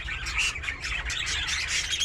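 Pet ornamental birds, including a grey and a yellow one, chirping and squawking in quick, busy bursts that repeat steadily throughout, fairly close and lively, with no talking.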